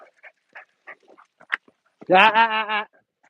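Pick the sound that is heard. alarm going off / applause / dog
dog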